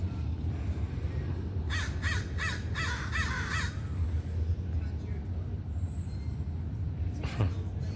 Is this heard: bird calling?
yes